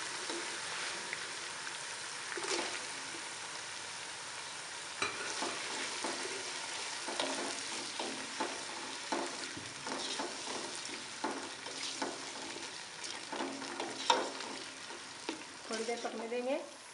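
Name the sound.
tomatoes frying and being stirred in a pan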